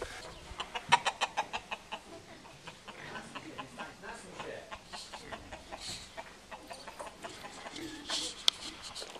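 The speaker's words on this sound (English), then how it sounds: "Chickens, they might be the easiest farm animal to take care of." Chickens clucking nearby in quick rhythmic bursts, a flurry at the start then scattered clucks and squawks continuing, fairly quiet.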